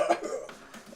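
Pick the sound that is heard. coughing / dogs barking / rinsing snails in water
coughing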